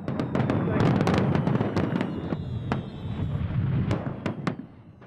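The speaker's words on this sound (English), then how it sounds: "the town hall organises a large fireworks display on the beach" A large fireworks display over a beach on a seafront, with rapid loud bangs and crackling bursts over a continuous booming rumble that fades toward the end.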